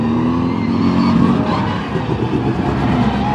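Mini Se7en race cars on a green flag lap at Thruxton circuit, a loud continuous blend of small racing engines droning and rising in pitch as they pass close by, with no voices.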